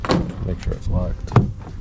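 Lexus GS 350 door locks unlocking: a short mechanical clunk from the driver door, then a second louder clack a moment later as the other locks release, all close by over low background noise.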